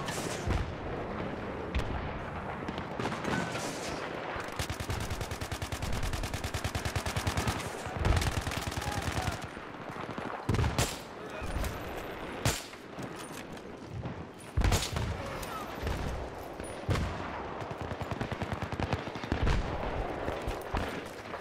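Battlefield 3 gunfire plays as a loud, dense stretch of rapid automatic bursts mixed with heavy booming shots, continuous for about twenty seconds with no pause in the firing.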